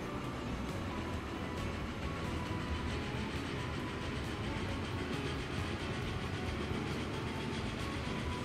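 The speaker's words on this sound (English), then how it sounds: "Just want to see this train, man." Train in the Transport Fever 2 video game runs steadily past at close range, with a constant loud rolling rumble and faint rhythmic clicks of wheels on track.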